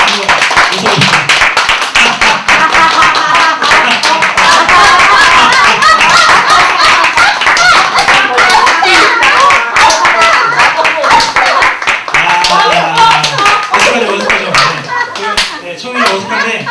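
Church congregation at a Korean Friday service clapping hands together while laughing as a practice exercise, a dense, continuous wash of many claps and mixed laughter with voices throughout.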